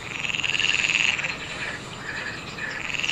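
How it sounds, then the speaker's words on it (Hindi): A frog croaks continuously in a dense, rapidly pulsing chorus of rasping calls, loud and close, with no voices present. "टर्टर जो है हम पहले देखे थे, मेंढक की आवाज है"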